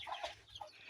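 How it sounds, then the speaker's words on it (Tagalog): Chickens clucking inside a coop kept in a former pig pen on a farm, several short overlapping clucks close by, moderately loud and steady with no talking. "Dito ang mga manok."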